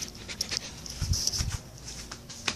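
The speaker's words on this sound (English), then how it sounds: "And our ugly dog right here." A dog pants close by in quick, breathy bursts with a few faint whimpers, a short snuffly sequence with no talking over it.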